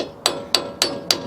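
Four evenly spaced, sharp metallic hammer strikes ring out close by, driving a brake pin out on the front brakes of a 1991 Ford E350, each hit decaying briefly before the next.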